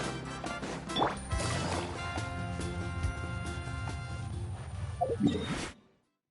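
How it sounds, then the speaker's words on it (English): Surfboard carving across waves in Genshin Impact, a steady rush of splashing water and swishing movement blended with game music, running continuously for about six seconds before cutting off. "Carving waves!"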